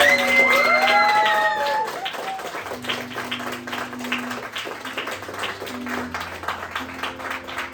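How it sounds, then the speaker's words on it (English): A comedy-show audience gives a round of applause for a participant, loud clapping with some cheering and whoops, with tonal music sounding at the start before the crowd settles into steadier, softer clapping. "So a round of applause for Jackie."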